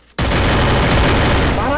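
Gunfire erupts in a 4v4 competitive video game match, a sudden, loud, dense burst of rapid shots that starts after a short quiet moment and continues without a break.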